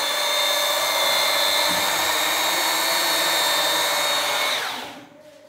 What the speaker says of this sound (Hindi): हमेशा हमें ग्राइंडर से ही मिक्स करना चाहिए एडहेसिव